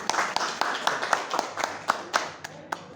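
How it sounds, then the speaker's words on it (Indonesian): Audience of SMK 4 students at a school morning assembly clapping, with sharp distinct hand claps over a steady murmur of scattered applause, moderately loud and close, with some voices mixed in. "Tepuk tangan dong."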